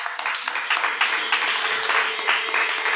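Applause from a church congregation, a dense steady patter of many hands clapping throughout, with a few louder bursts, fairly close.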